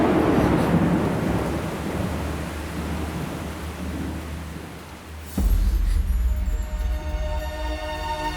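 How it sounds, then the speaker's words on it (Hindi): Heavy rain pours in a steady roar, then a loud thunderclap cracks partway through and its deep rumble rolls on under the downpour. "कितनी बारिश हो रही है?"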